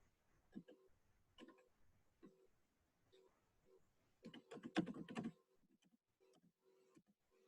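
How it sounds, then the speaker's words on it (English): Faint, scattered keystrokes tap on a computer keyboard while typing a password, with a quick flurry of typing in the middle before returning to sparse, quiet presses. "Apparently, I am not typing in my password correctly."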